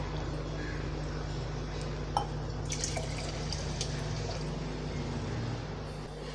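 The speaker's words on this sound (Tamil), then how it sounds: "அதே கப்பால் நான் 5 கப் அளவு நான் தண்ணி சேர்க்குறேன்." Water poured into rice in a pot while making sambar rice, a continuous close liquid splash and trickle running throughout with a few small clinks.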